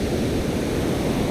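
Ocean waves at Grand Bassam beach in Côte d'Ivoire make a dense, steady wash of surf noise, loud and unbroken, with no distinct individual breakers.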